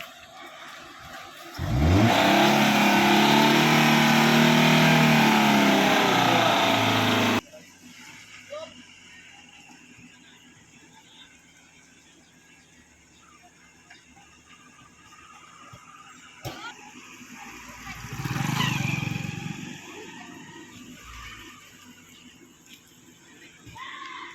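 A car moves slowly during parking practice at a driving school. Its engine roars loudly for about five seconds, then drops to a low, quieter running sound with people talking, and swells briefly again later.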